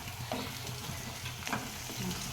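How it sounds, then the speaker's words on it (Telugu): Ginger paste and tomato fry in a pan while being stirred, a dense, quiet sizzle with faint scraping strokes throughout, close by and steady, no talking. "కొద్దిగా టమాటా, తర్వాత బాగా కలుపుకోవాలి. ఉడికేంత వరకు మంచిగా కలుపుకోవాలి."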